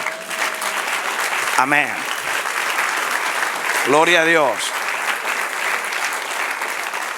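A church congregation claps in broad, steady applause throughout, with voices calling out over it at two points.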